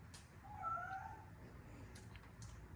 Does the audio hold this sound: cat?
yes